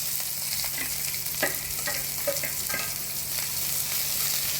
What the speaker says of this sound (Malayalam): ഇനി നമുക്ക് അരിഞ്ഞ് വെച്ചിരിക്കുന്ന ചെറിയ ഉള്ളി ഇടാം.